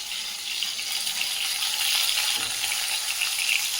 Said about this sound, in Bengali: পটল আর আলু কেটে ভাজা ভাজা হয়ে গেছে তুলে নেব